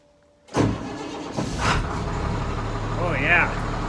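An old bus engine kicks in after a cold start with a block heater, jumping from near silence to a loud, steady idle rumble that settles into a continuous drone with a faint whine on top.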